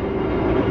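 Passenger train carriage in a luxury-class car rolling along the rails: a steady, loud, close rumble with a low drone and no pauses, heard from inside the car for under a second.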